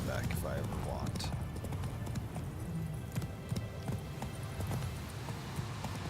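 Hoofbeats of Roach, Geralt's horse in The Witcher 3, a steady clip-clop gallop with a neigh, under game ambience and a spoken line.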